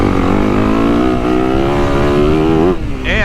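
A 2023 Yamaha YZ450F motocross bike's four-stroke 450 engine revs loud and close, holding a steady buzzing pitch that climbs slightly before dropping off near the end.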